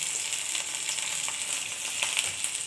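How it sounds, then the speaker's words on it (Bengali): Dried red chillies, garlic and onion frying in hot oil, a dense, even sizzle close by with occasional light stirring, no talking. "প্রথমে হচ্ছে শুকনো লঙ্কাটাকে ভেজে নিচ্ছি"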